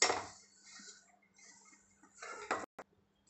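A spoon clinks and scrapes against a bowl while mixing oil into flour for spinach paratha dough: a loud clatter at the start, quieter stirring scrapes, then a few sharp taps near the end, with no talking.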